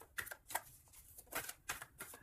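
Tarot cards cut and riffled by hand, giving a quick run of crisp papery flicks and taps in short bursts, close and fairly quiet.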